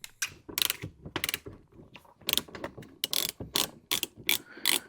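A ratchet spins off bolts holding a car door in rapid, close bursts of sharp clicking, several quick runs separated by short pauses.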